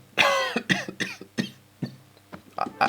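A run of sharp, close coughs in quick succession, about eight bursts spaced unevenly over a few seconds, with no talking.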